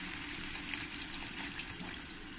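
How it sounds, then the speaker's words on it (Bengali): A little water poured into a pan of cooked green jackfruit, a soft steady splash and gush of liquid, faint and close, running throughout without speech. "এবার আমি হালকা করে একটু জল দিয়ে দেবো"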